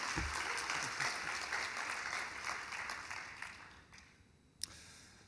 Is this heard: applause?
yes